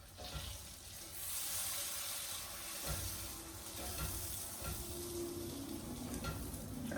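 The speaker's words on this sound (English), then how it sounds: "I'm going to give it a stir. Because you want to make sure that your marshmallows are covered with butter" Marshmallows are stirred through melted butter in a pot, giving a soft, continuous sizzle with scraping and stirring movements near the mic, fairly quiet and with no talking.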